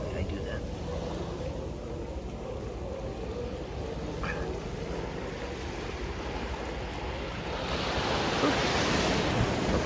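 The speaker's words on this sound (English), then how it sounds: "just taking a little look at the ocean" Ocean surf at Santa Cruz rolls in as a steady broadband wash, swelling louder near the end, with wind buffeting the microphone and a person speaking over it.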